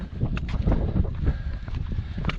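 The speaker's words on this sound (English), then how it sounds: "Man, that wind is booking up here." Strong wind buffeting the microphone atop an outdoor hilltop in Grand Staircase-Escalante, Utah, with loud, uneven low rumbling gusts and no voices.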